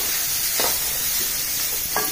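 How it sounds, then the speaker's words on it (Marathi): Urad bean grains dry-roasting in a pan on the stove, giving a steady close hiss with two brief scraping stirs along the way; no talk. "आम्ही पुरी दाणे अशी मस्त भुजून घ्यायचे आपल्याला"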